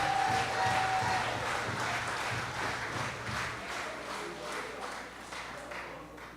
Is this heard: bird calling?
no